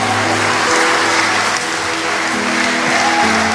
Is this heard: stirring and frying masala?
no